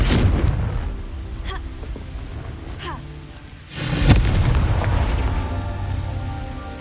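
A Confringo fire spell bursts in the Hogwarts Legacy video game with a loud booming explosion midway, followed by a sustained crackling roar, among other rumbling game effects.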